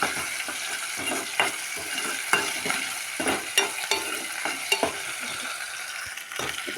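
Ginger frying in a pan for a ladies finger curry, a steady close sizzle with spoon stirring and scraping clicks breaking through at irregular intervals.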